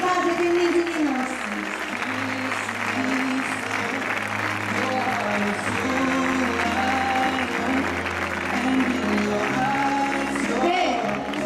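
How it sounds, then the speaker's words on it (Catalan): Loud, steady applause from a school graduation and farewell audience, honoring the children's charity donation to the Sant Joan de Déu foundation, with crowd murmur and voices mixed in throughout. "Un aplaudiment ben fort per aquesta solidaritat de nens i nines."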